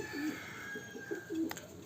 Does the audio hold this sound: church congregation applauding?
no